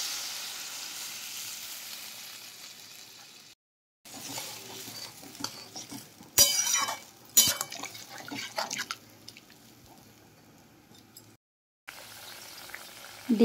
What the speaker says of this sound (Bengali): এবার আমি দিয়ে দিলাম জল।